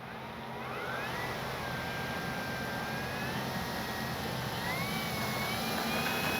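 An FMS P-47 Thunderbolt RC warbird model takes off, its electric motor and propeller whining steadily as the pitch rises and shifts, loud and continuous over a broad airy roar, with no talking.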